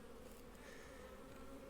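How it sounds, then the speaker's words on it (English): Close, continuous buzzing of many honey bees in a hive, a steady droning hum with no other sounds. "there'll be like quite a bit of bees on the bottom"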